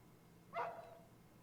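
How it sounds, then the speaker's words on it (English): A single dog bark in the horror video game Rule of Rose, a short tonal burst heard at a distance against a quiet, droning ambience. "I heard the dog"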